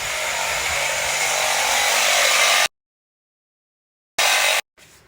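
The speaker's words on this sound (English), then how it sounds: "Max Knight's on the sawzall grind" A Sawzall reciprocating saw cutting metal while a Chevy Sierra truck is built, a loud steady buzzing grind that stops abruptly, then a short second burst and a faint trailing noise.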